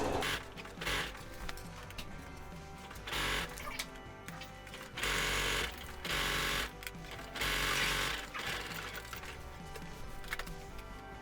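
Sewing machine stitching stretch leggings fabric, running in bursts of steady rapid mechanical whirring that stop and start several times, fairly close and alone with no talk.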